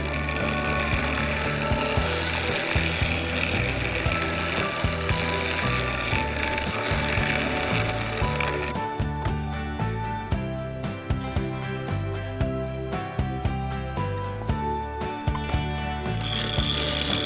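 A wood lathe spins a segmented bowl while a small negative rake scraper hollows the inside, giving a continuous whirring drone with scraping tool contact and clicking ticks, loud and near with no speech.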